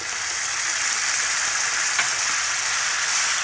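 Ginger, onion and tomato paste frying in a pan, a loud, even, close sizzle with light crackling, no talking.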